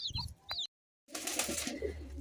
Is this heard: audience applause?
no